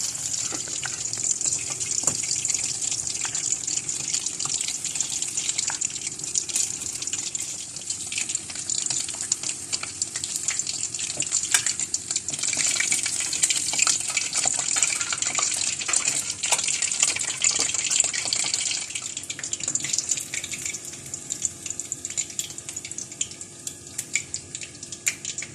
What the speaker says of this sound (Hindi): बाकी तमाम नगेट्स भी इसी तरह से फ्राई कर लेते हैं।